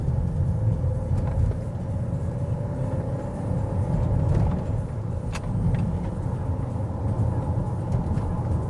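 An Opel Insignia with the air conditioning on climbs a hill, heard from inside as a steady, close, low engine drone with road rumble and occasional faint clicks, with no talking.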